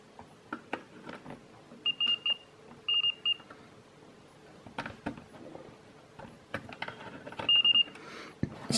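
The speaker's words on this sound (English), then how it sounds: "it only beeps like this when I'm touching the antenna with my bare hands" A lightning detector gives three short, high electronic beeps spaced a few seconds apart while its antenna is touched by bare hands, amid scattered clicks and handling noises close by.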